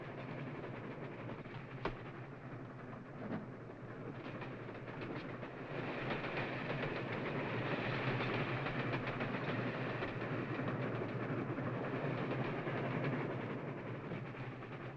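A train rolls steadily along the rails with a continuous low rumble and rattling, close and loud throughout, with a brief clank near the start.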